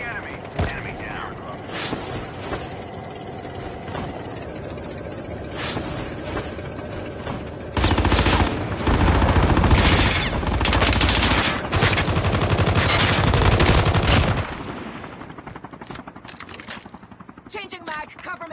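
Gunfire in a Call of Duty video game: rapid automatic shooting in a loud, sustained burst lasting several seconds, set among game mechanical noises and a voice calling out.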